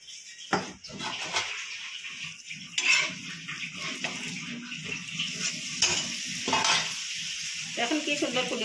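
Aloo paratha frying in refined oil on a pan, with steady close sizzling, scraping and clinks of a spatula against the pan.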